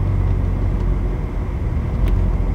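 A Chevrolet Corvette Z06 creeping over a speed bump with the clutch barely feathered, giving a steady low engine rumble close by with a faint bump thud near the end.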